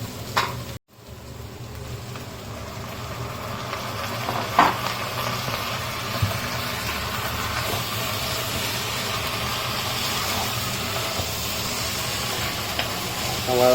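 Mutton sizzling steadily in a pan with golden-browned onions, a continuous hiss and crackle from a close cooktop, with a brief clatter near the start and no voices.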